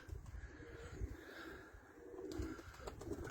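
Soft, low cooing of pigeons repeats in short pulses, faint and close, over a quiet background.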